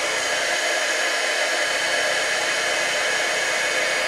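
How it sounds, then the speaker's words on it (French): A heat gun blows steadily over embossing powder on a stamped craft piece, giving a loud, continuous airy whoosh that lasts the whole stretch with no talking. "on le laisse chauffer un petit peu. Là. Mon pistolet chauffant."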